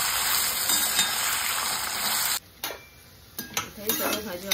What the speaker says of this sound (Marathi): त्याच्यात आपण बटाटे पण टाकूया। त्याच्यात मटार पण टाकते, ते गाजर सगळं परतून घेऊया छान।